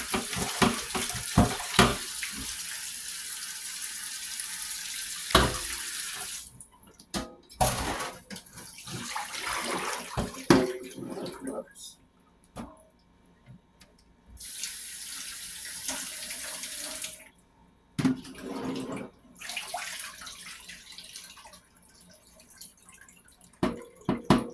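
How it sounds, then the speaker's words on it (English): Tap water runs into a sink while oxtails are rinsed, a close, rushing splash that starts and stops several times, with bursts of flow separated by short quiet gaps and dripping, and no talk. "Gonna rinse them out. Get them all rinsed off good."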